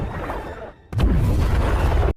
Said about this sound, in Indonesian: tiba-tiba muncullah kapal selam Akula yang langsung menyerang dengan tembakan torpedo